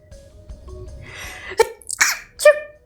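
A single sneeze near a microphone during a casual gaming session, preceded by a building inhale and followed by a couple of short sharp bursts.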